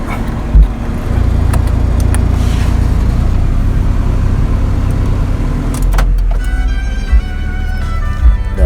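A Maruti Baleno with a custom valvetronic exhaust idles loudly and steadily with a deep, continuous rumble and a few brief clunks, recorded close from outside the car.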